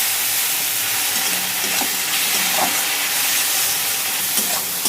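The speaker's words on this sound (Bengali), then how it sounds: "মশলাগুলো খুব ভালো করে মিক্স করে নেব" Onion, tomato and ground spices (chili powder, cumin, turmeric) sizzle and fry steadily in a pan while being stirred, a dense, continuous hiss close by with faint scraping taps and no talking.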